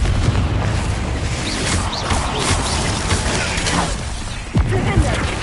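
Fire spell explosion cast in the Hogwarts Legacy video game, heard as a dense, rumbling burst with crackling debris inside a continuous loud game soundscape, with a sharper impact thump near the end.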